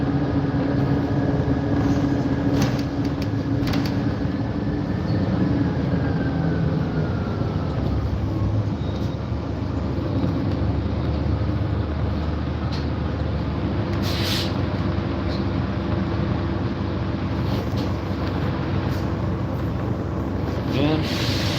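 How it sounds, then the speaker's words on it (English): Steady rumble of a moving train interior, continuous low-frequency rolling noise with occasional squeals and clatter, fairly loud throughout, with some faint talking in the carriage. "I feel like I'm on a legitimate train."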